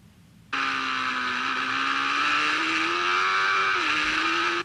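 A motorcycle laps Blyton race circuit at close range, its engine a loud, steady drone that climbs gradually in pitch as it accelerates, dips briefly as it shifts, then rises again before cutting off abruptly.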